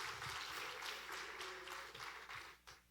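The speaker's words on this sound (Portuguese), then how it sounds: "Uma salva de palmas para os tímidos também." Applause from a church congregation during a teaching service, a fairly steady wash of clapping at moderate distance, filling the room for about three seconds and thinning toward the end.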